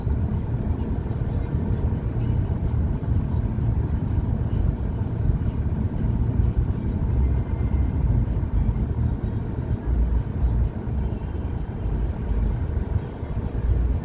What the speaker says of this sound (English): To be able to drive my truck off this without even braking.